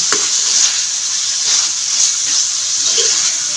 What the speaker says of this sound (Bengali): এখন আমি মাছগুলো ঢেলে দিচ্ছি ঢেলে দিয়ে নিয়ে নেড়ে ছেড়ে দেবো